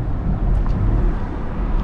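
A loud Dodge Hellcat Redeye idles with a steady, dense low rumble that holds close and constant for about two seconds, with no voices over it.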